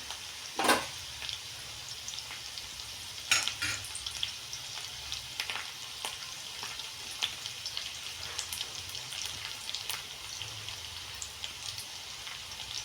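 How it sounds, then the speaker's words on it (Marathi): Peeled, lightly crushed garlic fries in oil over a raised gas flame, giving a soft, steady crackle of tiny pops with a few sharper spits, alone and fairly quiet. "तो आपण तळून घेणार आहोत. गॅसची फ्लेम थोडी वाढवायची आहे याला."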